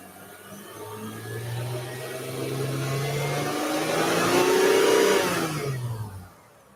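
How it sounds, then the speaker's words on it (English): Mitsubishi car engine revved by pulling the accelerator cable by hand, a steady mid-pitched drone that climbs and swells to a louder peak before dropping back toward idle near the end. "Rev the car up. I'm just using the accelerator cable here."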